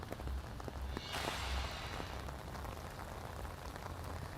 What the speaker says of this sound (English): the rain is coming down there, and you can hear it